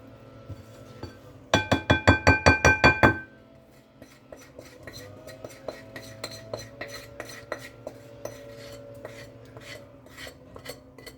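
Muffin batter folded with a utensil in a bowl, opening with a quick run of about eight loud metallic clinks, then lighter, steady scraping taps against the bowl continuing throughout.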